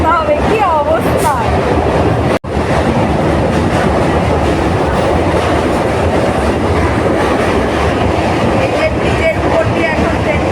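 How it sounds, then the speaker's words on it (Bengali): A passenger train rolls across a bridge, heard from inside a nearly empty compartment as a loud, continuous rumble and rattle of wheels, with squealing metal and a brief dropout partway through. "ব্রিজের উপর দিয়ে এখন ট্রেনটা যাচ্ছে দেখো।"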